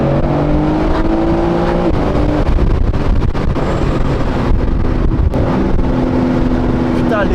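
A BMW M4 engine roars loudly and continuously nearby, its pitch rising and falling as it revs, with wind buffeting mixed in throughout.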